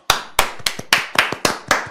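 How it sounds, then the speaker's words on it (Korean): A single person claps their hands, seven crisp, close claps in an even rhythm over two seconds, each sharp snap followed by a short decay, with no voices around them. "박수."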